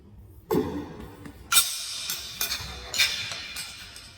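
A hard plastic clatter as a small plastic window wedge drops and bounces, followed by a few lighter knocks and taps nearby.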